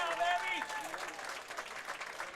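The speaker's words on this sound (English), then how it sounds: "Big round of applause from all the fans here." Fans applaud at a youth bowling tournament final at a bowling center, a steady wash of clapping across the whole stretch with a commentator talking over it.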